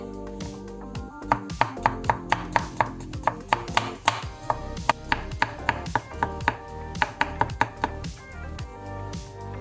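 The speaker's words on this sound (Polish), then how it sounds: "bierzemy sobie z 5 pieczarek i kroimy w plasterki" Knife slicing five button mushrooms, a steady series of sharp chopping taps on a cutting board, close and clear, evenly paced for several seconds.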